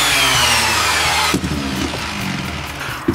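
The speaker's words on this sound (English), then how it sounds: "go over it again with 120 grit sandpaper. Just smooth it over." Coarse 120 grit sandpaper rubbing along the edges of a wooden desk, a steady broadband scraping that runs continuously for a few seconds, then gives way to a softer mix of irregular strokes and small knocks.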